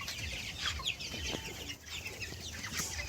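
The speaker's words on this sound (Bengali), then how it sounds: "তো দেশি মুরগিগুলো আপনাদের দেখাচ্ছি। এই যে আমাদের দেশি মুরগিগুলো" Native chickens clucking on a farm with roosters among the flock, a steady overlapping chatter of clucks and short calls at close to moderate distance, with no talking.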